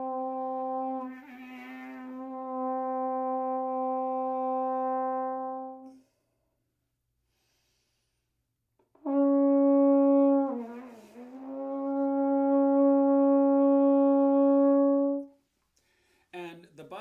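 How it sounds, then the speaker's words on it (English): A brass horn sustains a steady half-note buzz, cuts out for a few seconds as the instrument is pulled off the face, then returns with a wavering pitch and settles into a steady tone again, loud and close. "I'm going to play the first half note, and on the second half note I'm going to bring the horn off my face and then slowly bring it back."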